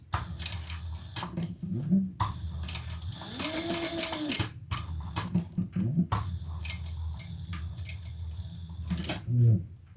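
Close, faint taps and clicks of rivets being set on a small handmade leather crossbody bag, scattered irregularly with light handling noises, and a brief tonal squeak in the middle.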